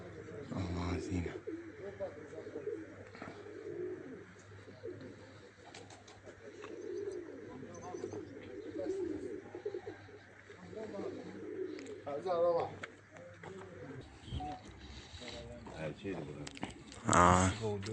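Racing pigeons coo softly around a pigeon loft during a race, with low murmuring calls throughout and a brief flutter of wings near the end; someone talks quietly over them.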